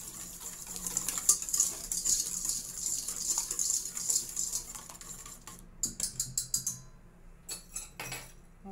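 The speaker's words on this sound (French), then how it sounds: "Là maintenant, on commence à mélanger." A utensil stirs crêpe batter with vanilla in a bowl, giving a steady scraping swirl with light clinks against the sides, then a few sharper isolated taps near the end.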